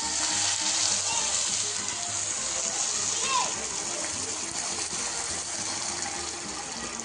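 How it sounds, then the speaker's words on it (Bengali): Hot water poured into rice frying in a pan for Bengali Basanti Polao, a steady loud hiss and splashing gush with sizzling that holds through the whole stretch, close by. "এবার এর মধ্যে গরম জলটা দিয়ে দিচ্ছি"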